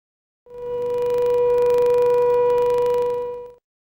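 Second fire alarm tone at an industrial production site, a single steady sine-like tone sounding for about three seconds, clear and alone with no talk.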